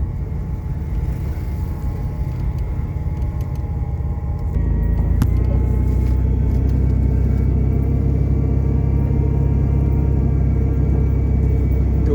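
Car driving slowly near an elementary school in Twin Town, Belize, a low steady rumble that swells into a heavier, louder engine drone partway through, close and continuous.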